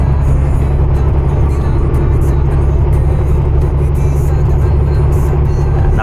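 A heavy 18-speed truck cruising at 105 gives a loud, steady low engine drone with constant road and cab rumble, unbroken from start to end.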